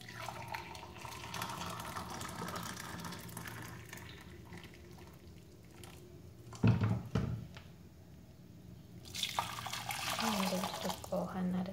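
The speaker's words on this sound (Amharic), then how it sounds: "ብርጭቆ ውሃ እናደርጋለን ማለት ነው።" Water pours into a glass while jello is being made in a home kitchen. It is a steady, hissing splash that swells louder toward the end, with a voice heard faintly in the background.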